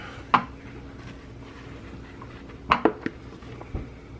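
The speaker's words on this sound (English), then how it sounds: "I'm going to dump the apples right into the pan and spread them out" Chopped apples are tipped into a sprayed 9 by 13 baking pan and pushed around, giving one sharp clatter, then a cluster of knocks and scrapes against the pan over a quiet background.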